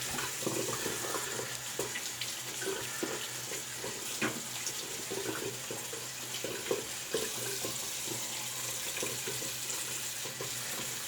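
Running water splashes steadily from a bathroom tap as a soapy shaving brush is rinsed under it, a continuous close hiss with small shifting splashes and no talk.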